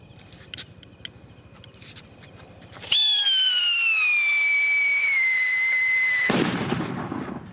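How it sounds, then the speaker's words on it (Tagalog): Striker firecrackers, a regular one and a big double-charge one, are set off at a distance among banned fireworks, letting out a loud falling whistle for several seconds that ends in a sharp crackling burst against faint outdoor noise. "Striker na regular tsaka striker na doble karga big."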